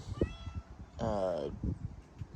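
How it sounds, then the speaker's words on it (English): Penny, a shop cat in a garage, gives a single drawn-out meow near the mic, rising and falling against a low rumbling room background. "And our nice shop cat there, Penny."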